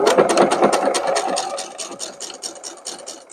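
A sewing machine stitches fabric for a simple cosplay cape with a fur collar, producing a rapid, regular run of mechanical needle pulses that gradually softens and slows.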